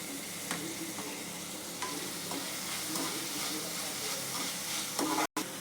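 Capsicum frying in a pan gives a steady, even sizzle with scattered light clinks and stirring scrapes, and one brief sharp cutout near the end.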